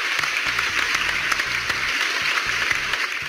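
Loud, dense applause from an audience at a financial investment seminar, continuous clapping throughout with a low rhythmic music beat pulsing underneath.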